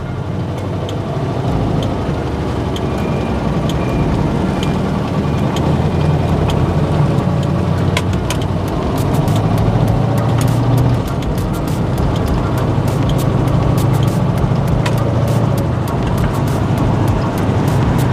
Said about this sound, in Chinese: 就是有种怠速的轰轰轰轰，然后前进的声音